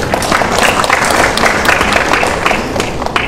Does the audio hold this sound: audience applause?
yes